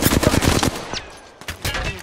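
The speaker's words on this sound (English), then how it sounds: "Getting shot at." Fast bursts of automatic gunfire in the battle royale game Apex Legends rattle close and loud, then pause before a second shorter burst.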